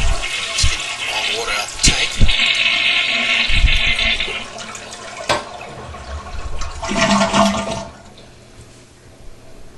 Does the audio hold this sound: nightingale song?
no